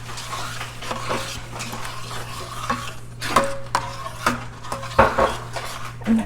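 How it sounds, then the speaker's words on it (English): Coconut milk is mixed in a pot for vegan ice cream, with steady scraping and stirring of a utensil against the pan and occasional sharper clinks of metal on cookware, close and continuous without talk. "So I'm just gonna mix it first and then whip it."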